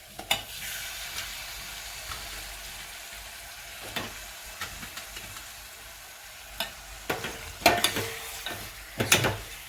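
Ravas fish pieces go into a pan of frying masala and are stirred, giving a soft sizzle under intermittent scraping and clattering of a spoon against the pan, growing busier toward the end.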